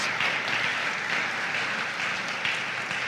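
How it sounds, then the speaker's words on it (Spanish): Church congregation clapping their hands in praise during a sermon, a steady, even wash of applause held at moderate volume, heard from a distance with no clear talk over it. "Dale palmas al Señor en estos momentos"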